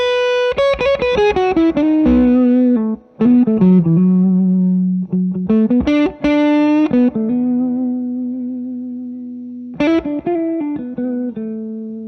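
Electric guitar played through a Magma57 pedal into a Two Rock Classic Reverb amp, with sustained picked notes and chords ringing out with warm reverb and light grit, loud and close with no talking.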